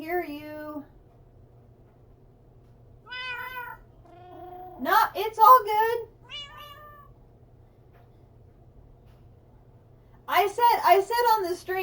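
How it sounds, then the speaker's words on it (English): Cats meow repeatedly in a room during Minecraft play, several drawn-out, rising meows in clusters, fairly close and clear, with a person speaking briefly between them. "Yes, kitties, we hear you."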